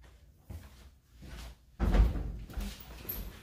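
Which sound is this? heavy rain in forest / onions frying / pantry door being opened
pantry door being opened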